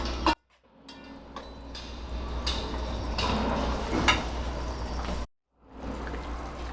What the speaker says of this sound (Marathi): मिक्स करून घेऊ आपल्याला या मिरच्या शिजवून घ्यायच्यात